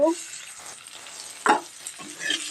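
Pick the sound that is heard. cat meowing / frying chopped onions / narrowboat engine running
frying chopped onions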